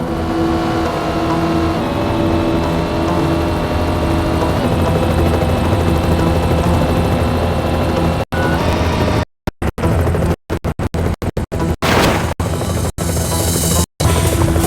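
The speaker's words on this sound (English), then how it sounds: "Michael, the helicopter will not be able to follow." A steady helicopter rotor drone in the video game Knight Rider fills the clip, joined later by choppy bursts of engine and crash noise that cut in and out abruptly.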